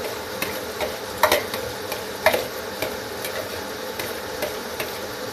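Potatoes for a dosa filling sizzle and fry in a pan under a steady hiss, with a few sharp clinks and scrapes of the spoon against the pan as they are stirred.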